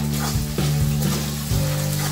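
Potatoes and green chillies sauté in oil with a pinch of salt, giving a close steady sizzle with a few spoon or spatula scrapes as they are stirred, with no talking.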